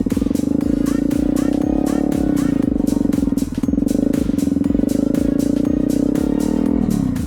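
Honda CRF250L motorcycle engine idling and pulsing under light throttle with clutch work during a slow parking-lot U-turn, a steady close-up drone with small rises and dips, wind noise over it.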